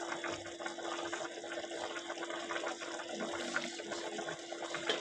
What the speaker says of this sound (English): the pasta water, and I just add it.